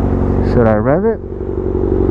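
A 2023 Kawasaki ZX6R sport bike idles close by, then one sharp rev rises to a high whine and falls back to a steady rumbling idle.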